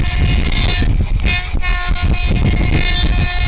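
A Sealdah–Lalgola passenger train hauled by a WAG9 electric locomotive rumbles loudly and close, with rolling wheel noise and a sustained tonal horn-like hum throughout.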